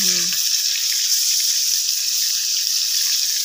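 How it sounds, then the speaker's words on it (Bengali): Fish frying in oil in a pan over a clay stove gives a steady, bright sizzle throughout, with a brief voice at the very start. "কড়াইতে মাছটা দিয়ে দিল।"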